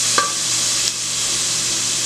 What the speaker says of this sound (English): You mix that all in.